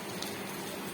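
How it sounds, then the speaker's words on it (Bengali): Water boils in a cooking pot for a fish curry, a soft, continuous bubbling hiss, steady and moderately close with no talking. "এখানে দেখো জলটা ফুটে উঠেছে"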